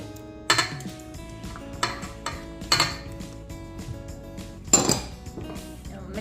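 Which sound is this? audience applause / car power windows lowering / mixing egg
mixing egg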